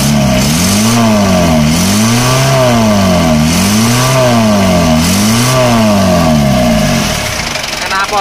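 A 2.3-litre diesel engine in an Isuzu Panther revs up and down in a rhythmic cycle, loud and close, with a rough, raspy note from a badly leaking exhaust before settling toward idle.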